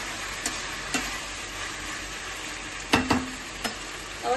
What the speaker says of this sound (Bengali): ভালো করে একটু নাড়িয়ে নিই